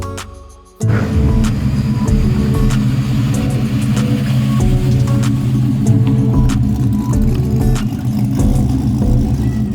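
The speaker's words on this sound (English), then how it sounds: "our trade-up truck just pulled up" An old red 1972 truck from Texas idles after pulling up, a steady, loud low engine rumble that starts abruptly and runs unbroken with slight rough pulsing.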